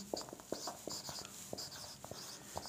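Chalk or marker writing on a board in a physics lecture hall, a quick series of short, separate strokes and taps, faint and close, with a light hiss of room tone behind them and no talking.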